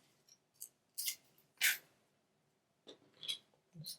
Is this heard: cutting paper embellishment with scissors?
yes